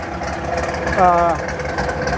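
An engine with a Holley carburetor set too rich at idle runs steadily nearby in a low rumble, while a person talks over it.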